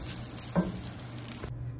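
Huaraches browning in a pan, a steady close sizzle with a brief soft thump partway through, cutting out abruptly near the end.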